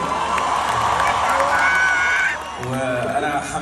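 A large audience at a concert in Saudi Arabia cheers, whoops and applauds a singer, a continuous loud roar of many voices with shouts rising above it.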